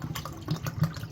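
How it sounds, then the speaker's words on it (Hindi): Cold fresh water pours into a glass of jamun sharbat, a steady splashing trickle with small bursts of gurgle, close and moderately loud, no voices. "इसमें अभी मैं फ्रेश पानी डालूंगा ठंडा"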